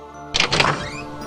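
A main door at a station opens with a solid thunk and a short rattling scrape, loud and close, fading into a quiet ringing tail.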